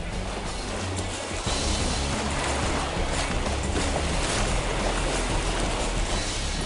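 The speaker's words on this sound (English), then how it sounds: "after crashing into the bigger waves, the water got inside and through to the skin" A boat crashes through big ocean waves, giving a loud, continuous roar of rushing water and wind with a heavy thump early on.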